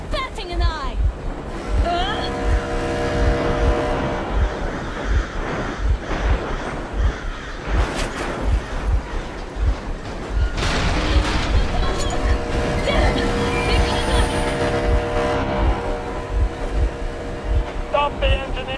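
A vehicle engine runs steadily in the video game Metro Exodus, with a low rhythmic throb beneath wind-like ambient noise and a dense game soundscape throughout.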